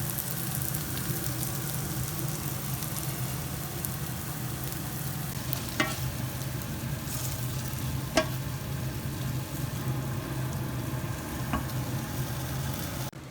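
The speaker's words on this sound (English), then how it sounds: "I'm gonna stir it a little bit more." Caponata, a Sicilian mix of aubergine and vegetables in sweet tomato sauce, sizzles steadily in a pan with a few sharp spoon scrapes and clicks as it is stirred, no voices.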